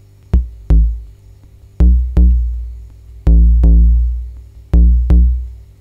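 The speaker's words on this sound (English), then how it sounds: "I'll take the output of my kick drum, and it sounds like this." Kick drum from a homemade drum machine: eight deep, booming hits, in pairs, each decaying quickly, loud and alone with silence between.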